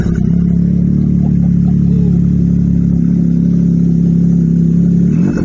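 A customized Can-Am Ryker engine idles loud and close, a steady deep mechanical drone that holds evenly with no clear rev, ending in a brief shift near the close.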